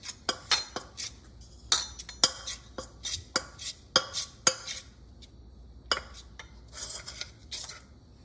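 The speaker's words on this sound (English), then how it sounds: "So I'm gonna mix it all together so that all the powdered sugar and the butter are well combined." Butter and powdered sugar are mixed in a bowl, with a utensil repeatedly knocking and scraping against the bowl in irregular, sharp, close clinks separated by brief quiet gaps.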